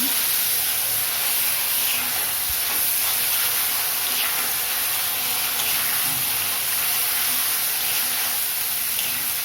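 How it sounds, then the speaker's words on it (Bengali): Ground spices fry with spinach and paneer, cumin and bay leaf for palak paneer, giving a loud, continuous, even hiss of sizzling that holds steady for the whole stretch without voices. "তো এরপর আমি মশলাটা দিয়ে ওটা ভেজে নেব"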